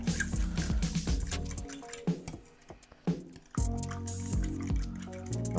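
Yeast is stirred into lukewarm milk for Brussels waffle batter, giving soft wet squishes, drips and liquid sloshes close up in uneven bursts, with no voice over them.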